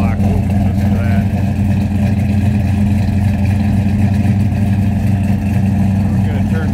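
A 1982 Chevrolet C10 Stepside pickup truck engine runs steadily at a low, throaty idle, close by and loud, with a voice faintly underneath.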